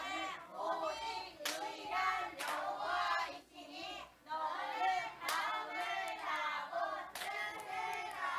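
Children at a church children's ministry service clap their hands in bursts of sharp, irregular claps, with children's voices chattering and shouting between and under them.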